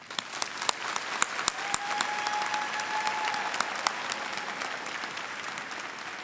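An audience at a high school graduation ceremony applauds steadily, with a dense, even wash of clapping and a few sharper nearby claps standing out early on.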